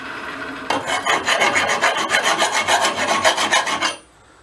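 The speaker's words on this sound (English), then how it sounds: "Take your file, take some of the burrs off, and then make your square area." A hand file rasps burrs off metal on a trailer under restoration, with steady rhythmic back-and-forth strokes, close and loud, then stopping abruptly.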